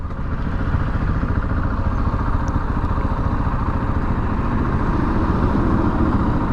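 A KTM 690 Enduro single-cylinder motorcycle rides along city streets, its engine droning loud and steady up close with wind rush throughout, no talk.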